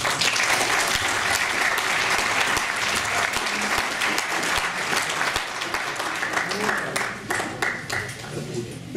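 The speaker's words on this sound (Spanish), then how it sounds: "le demos un aplauso caluroso" An audience at a book presentation in a formal hall breaks into warm, sustained applause, dense and fairly loud, slowly thinning toward the end.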